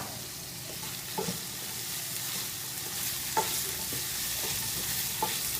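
Onions and other ingredients for curry coconut shrimp cooking in a pan, a soft steady sizzle with occasional faint scrapes and taps of stirring, fairly quiet and with no one speaking.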